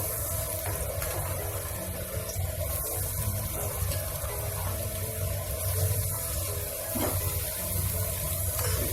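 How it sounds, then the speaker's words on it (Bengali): Potatoes fry in hot oil with a close, dense, steady hiss that carries on unbroken throughout. "তেলটা গরম হয়ে গেছে, আলুগুলো আমি ওর মধ্যে দিয়ে দিচ্ছি।"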